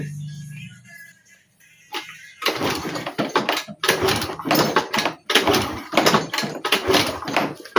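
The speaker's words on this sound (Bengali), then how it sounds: "কিকও মেরে দেখাচ্ছি" After a short quiet pause, a series of loud, irregular mechanical clunks and thumps repeat close by as the kick-starter of a Hero Maestro BS6 with an electrical fault is stamped down again and again.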